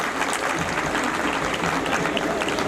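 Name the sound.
audience applause at school annual function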